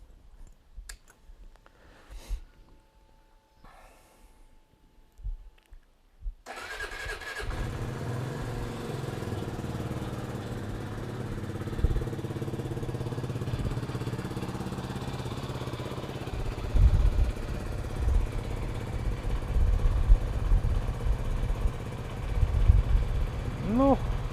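A Benelli TRK 251 motorcycle engine starts after a quiet stretch with faint speech and clicks, then runs at a steady idle with a few louder revs, close and continuous to the end.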